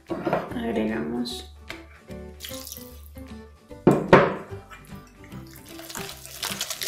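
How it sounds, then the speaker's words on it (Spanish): Water runs and splashes into a bowl of eggless pancake batter in a kitchen, a fairly close burst of pouring and sloshing amid clinks, with a voice speaking at times. "el resto del agua."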